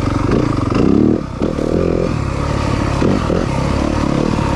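A 2023 Yamaha 250FX off-road motorcycle engine revs hard and pulls while being ridden, a loud continuous close-up roar with a brief dip in the middle, no talking.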